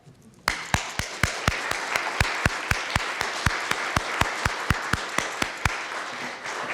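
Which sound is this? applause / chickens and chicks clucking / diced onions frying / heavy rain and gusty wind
applause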